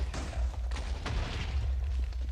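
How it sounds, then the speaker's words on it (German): Explosions in a video game, a series of booming bursts with a heavy low rumble that keeps rolling underneath, loud and close throughout. "Boah, schon wieder Explosion."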